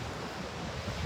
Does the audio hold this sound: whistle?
no